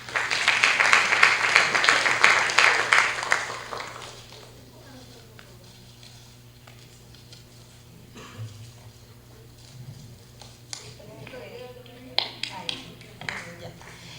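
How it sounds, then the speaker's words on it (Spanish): An audience at a criminal procedure law seminar claps to welcome a speaker. The applause is loud for about four seconds and then fades, followed by quieter shuffling, a few scattered claps and some talking. "Lo recibimos con unas palmas."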